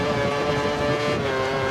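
Formula 1 race cars lapping the Monaco street circuit in the F1 2013 video game, a continuous loud high-pitched engine whine that holds steady without breaks.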